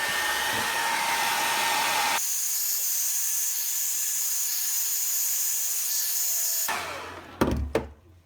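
Hot air gun heating a Talon rubber grip wrap on a Glock 19, a steady close whooshing blower hiss that shifts tone partway through, then cuts off with a few knocks at the end.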